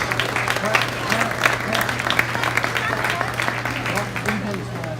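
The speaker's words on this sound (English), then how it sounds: "Let's give all the exhibitors we dismissed a heck of a round of applause" Audience at a hog show claps steadily for dismissed exhibitors, a dense, sustained round of applause from a crowd in a livestock show barn, with a low steady hum underneath and scattered voices mixed in.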